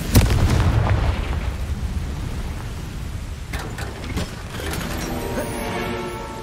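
A Confringo fire spell bursts in the video game Hogwarts Legacy, opening with a loud booming explosion that rumbles on, followed by scattered sharp cracks and pops as the blast settles.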